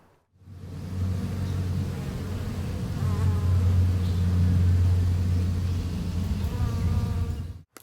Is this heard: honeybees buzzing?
yes